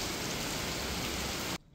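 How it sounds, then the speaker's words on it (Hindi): Heavy rain pouring down in Pune during a days-long downpour, a dense steady hiss that fills the clip and then cuts off abruptly near the end. "इतनी तेज़ बारिश हो रही है पुणे में"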